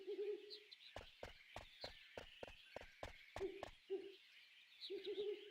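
Owls hoot in the Final Fantasy IX video game: short, faint, warbling calls come in bursts at the start and end, with a steady run of hollow clopping knocks in between.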